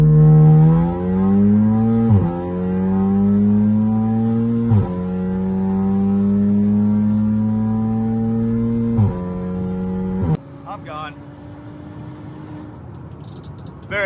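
Two cars race, a tuned Audi SUV against a stage 3 Volkswagen Golf R, with loud engines climbing through the revs and dropping at each upshift. Then they ease off and fade.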